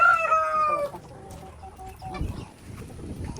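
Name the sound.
chickens clucking on a poultry farm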